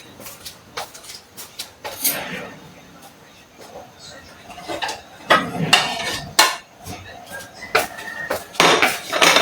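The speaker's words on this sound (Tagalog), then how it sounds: "Ihiwain lang po natin tong ating bawang at sibuyas." Garlic and onions being chopped on a board, with irregular knife knocks and clinks of a pan and utensils at close range, under intermittent talk.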